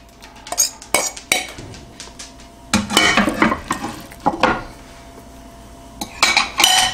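Egg, milk and bread cubes being mixed into meatloaf in a bowl: close, irregular clinks, scrapes and wet stirring in uneven bursts separated by short pauses, with no voices.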